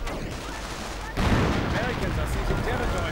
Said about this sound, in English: More artillery getting called in.